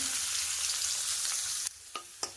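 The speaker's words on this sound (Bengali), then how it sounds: "দিয়ে দেবো কুচিয়ে রাখা পেঁয়াজ" Chopped onion drops into hot oil already tempered with cumin, dried red chilli, bay leaf and whole garam masala, giving a loud, close, dense sizzle. The sizzle cuts off abruptly partway through, followed by a few sharp utensil taps.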